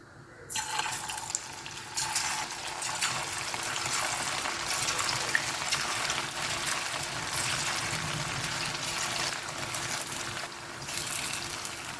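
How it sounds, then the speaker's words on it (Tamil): Fish fingers dropped into hot oil fry with a continuous close bubbling sizzle that holds steady throughout, with no voices. "இந்த மாதிரி ஒன்று ஒன்றா எடுத்து போடுங்க நல்லா பொரிஞ்சு வரும்"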